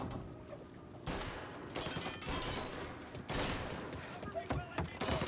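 Dense, sustained gunfire from a Mafia: Definitive Edition shootout, with rapid overlapping shots and bursts that come loud and close and swell in waves, while someone talks over part of it.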